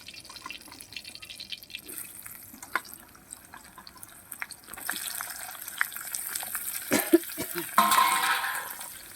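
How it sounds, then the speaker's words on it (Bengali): Bitter gourd pieces drop into hot oil and fry, starting as faint scattered crackles and building into a louder, steady sizzle toward the end, with no talk. "তেল দেওয়ার পরে দেখুন তেলটা গরম হয়ে গেছে। এবার আমি এই উচ্চাগুলো ছেড়ে দিচ্ছি।"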